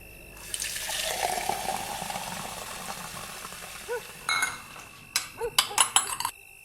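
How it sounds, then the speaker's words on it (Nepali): Water is poured from a container to rinse a metal pot, a hissing splash for several seconds, followed by clinks and knocks of the metal vessel being handled. "अलग्गबाट पानी हालिदे त"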